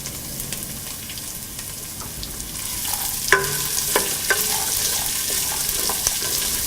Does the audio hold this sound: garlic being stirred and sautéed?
yes